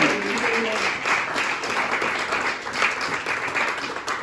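A church congregation at a Sunday worship service in Orléans bursts into loud, sustained applause for Jesus Christ, dense clapping filling the room with voices mixed in.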